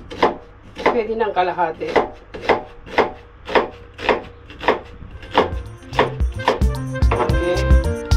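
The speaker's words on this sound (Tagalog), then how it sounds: "Let's cut the tamanegi, okay?" Onion being cut for gyoza on a cutting board: about eight steady, evenly spaced knife chops thud against the board, then quicker, busier chopping, with a short spoken phrase near the start.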